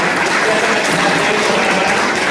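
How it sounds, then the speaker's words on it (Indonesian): An audience at a mission theological school event applauds its lecturers, a dense, steady wash of clapping from many hands filling the space without a break. "Tepuk tangan buat dosen-dosennya"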